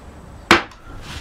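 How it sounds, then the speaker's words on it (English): A single sharp wooden crack as a mallet drives a 3/4 inch carving gouge into a wooden box front panel, close and loud, followed by a faint scrape and quiet. "there's a whole series of strikes with that gouge and a mallet"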